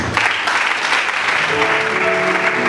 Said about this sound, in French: Nous acclamons Jésus-Christ pour la famille.